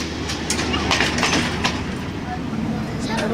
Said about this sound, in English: There is also a train that crosses the city of Nairobi.